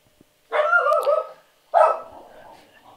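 A dog gives two close, loud barks, the first drawn out and the second shorter with a fading whimper after it, with near silence around them.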